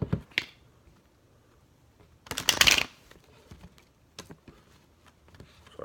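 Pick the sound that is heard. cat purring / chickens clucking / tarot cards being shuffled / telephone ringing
tarot cards being shuffled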